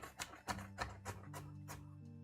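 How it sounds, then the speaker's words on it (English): A knife chops garlic on a cutting board with about six sharp, uneven knocks, close and clear, while a faint hum runs underneath. "I have to show off my very sloppy chopping"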